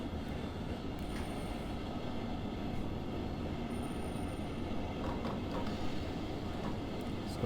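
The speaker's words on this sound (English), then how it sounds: "Let's start slowing down this train." Simulated train in Train Sim World on the Ruhr Sieg Nord line, a steady loud rumble of wheels and carriages rolling along the rails with faint squeals above, no voices.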